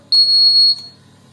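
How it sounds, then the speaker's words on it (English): A train obstacle sensor triggers its alarm, a single loud, piercing electronic beep held steadily for about half a second, close and alone, then cutting off sharply. "within the range of 1 meter, it gives alarm."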